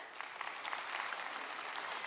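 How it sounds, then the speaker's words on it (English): Faint, steady applause from a gathered audience at a family storytelling event, a soft even wash of clapping with no voices over it. "And give him a round of applause."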